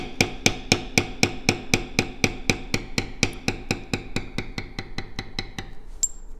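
Mallet repeatedly striking a steel bevel tool to push down leather along a border line on a tooled belt, about twenty-five steady, evenly spaced crisp taps, close and alone.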